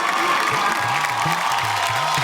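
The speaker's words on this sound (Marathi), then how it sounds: "जोरदार टाळ्या होऊन जाऊ दे" Brief burst of steady clapping from a small crowd of women at a TV game show, dense and close, with a low murmur of voices beneath.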